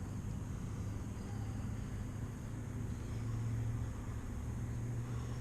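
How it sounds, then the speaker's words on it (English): A white golf cart or small car creeping along a golf course on a chilly November evening, a steady low rumble that holds through the stretch with little change in level, heard at a moderate distance. "So white car creeping up on me."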